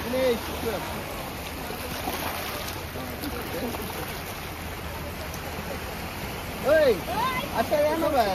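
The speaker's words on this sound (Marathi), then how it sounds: "भरती याला सुरुवात झाली समुद्राने नुसत्या लाटा येतात मोठ्या मोठ्या" Sea waves rolling in as the high tide begins, a continuous wash of surf with people talking and calling out over it throughout.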